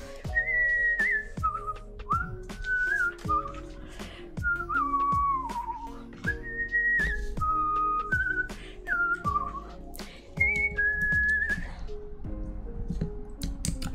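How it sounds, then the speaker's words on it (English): A person whistles a bright, wandering tune in short phrases with brief gaps, close and clear, over a steady busy backdrop of low tones, with no talking. "I like whistling in case you were new to chat and couldn't tell."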